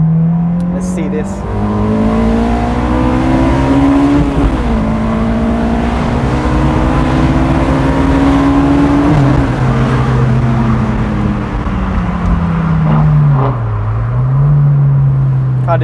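A Honda S2000 AP1 drives and accelerates on the road, its loud engine climbing in pitch through several gear pulls, with a drop at each shift, sounding close and dominant for the whole stretch.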